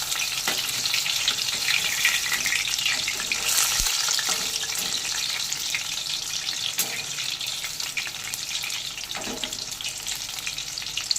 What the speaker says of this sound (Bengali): এভাবে 2 পিঠই গোল্ডেন ব্রাউন করে ভেজে নেব